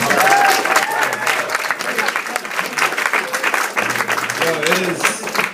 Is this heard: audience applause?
yes